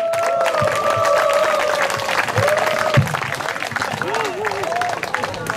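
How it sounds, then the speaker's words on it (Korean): A crowd at an awards ceremony for a charity golf tournament applauds to welcome a soprano onstage, steady massed clapping with some cheering, while a sustained tone and melodic voice-like lines sit on top. "소프라노 차승혜 선생님을 큰 박수로 모시겠습니다."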